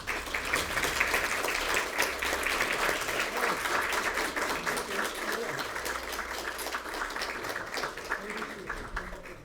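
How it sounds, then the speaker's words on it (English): An audience at a distinguished university lecture applauds as the guest speaker, the President of Costa Rica, comes up, with sustained, even clapping from a sizable crowd that softens gradually over its length, with no talking over it. "why don't you give a round of big applause?"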